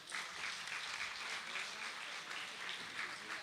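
A ceremonial academy audience marking International Nurses Week applauds in a steady, dense wash of clapping that continues at an even level from start to end, without speech.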